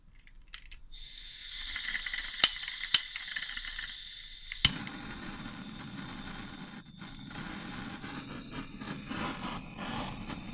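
A GasTorch attachment screwed onto a small gas canister hisses steadily and close after a few clicks and a sharp snap of ignition, the hiss shifting to a rougher, lower roar as the flame burns.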